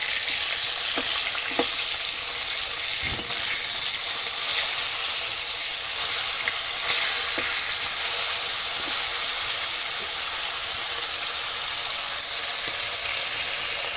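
Loud, steady sizzling of cumin seeds frying in hot oil, a continuous close hiss with a few faint clicks.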